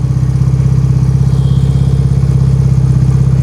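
A BMW R75/5 motorcycle engine running steadily at close range, a loud throbbing flat-twin pulse with constant rhythm and no change in pitch throughout.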